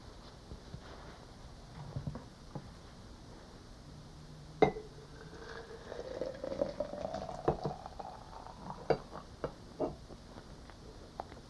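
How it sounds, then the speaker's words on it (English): Boiling water is poured into a quart glass jar, a hollow gurgling tone rising in pitch as it fills, with a few clinks and bubbling sounds. "Fill this jar with boiling water."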